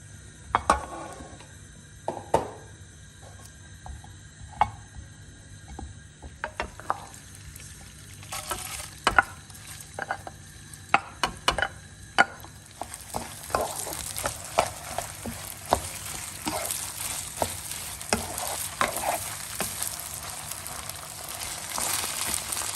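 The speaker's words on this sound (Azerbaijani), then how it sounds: "İndi isə düyüğümüzü yağda qovururam." Rice fries in oil in a pan while a utensil stirs it, with frequent scraping clinks. A quiet sizzle swells into a loud, dense hiss partway through, close up and without voices.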